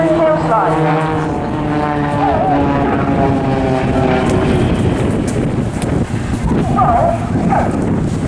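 Propeller engines of an aerobatic display team's aircraft at the Eastbourne Airshow droning loudly during a tail slide manoeuvre, with a continuous roar mixed with wind buffeting and a commentator speaking over it.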